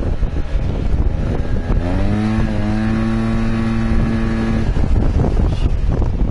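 A Yamaha TMAX 530 scooter fitted with Malossi parts accelerates hard on the road, the engine note climbing steadily and then holding a high drone under constant wind rush, with no talking.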